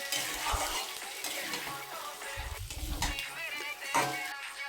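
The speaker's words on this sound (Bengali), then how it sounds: "কষিয়ে কষিয়ে সুন্দর করে ঢেকে ঢেকে কষাবো" Chicken liver and stomach curry being stirred and fried in a pan, with continuous sizzling and scraping of a spatula against the metal and a few louder stirring strokes.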